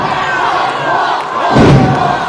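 A crowd at a main-event independent pro wrestling match cheers and shouts loudly, with a thud from the ring about two thirds of the way through.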